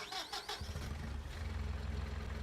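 A JCB telehandler engine in Farming Simulator 19 cranks with a short whine, then catches and settles into a steady, close, throbbing diesel idle with a low rhythmic pulse that continues unbroken to the end.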